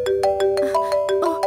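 A phone ringtone chimes in a steady repeating pattern of bright tonal beeps, close and clear with no talking over it, in a Hindi-dubbed action romance film.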